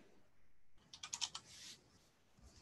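A computer keyboard is typed on in a quick burst of about half a dozen crisp key clicks, faint and close, with quiet room tone before and after.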